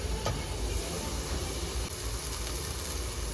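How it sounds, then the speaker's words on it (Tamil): A mixer grinder jar at full speed makes a steady, loud broadband whirring hiss with a low rumble underneath, grinding ingredients for veg kurma; no talking. "மிக்ஸி ஜாரில் மாட்டிட்டேன், அரைக்க போகிறேன்."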